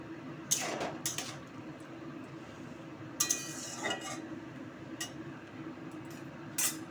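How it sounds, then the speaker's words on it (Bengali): A spoon scrapes and clinks in a pan while soaked green mango pieces are stirred, a few sharp metallic taps over a soft, steady sizzle. "আম চুষনিগুলো ভিজিয়ে রেখেছিলাম সেগুলো দিয়ে দেবো একবারে। দিয়ে নাড়াচাড়া করব।"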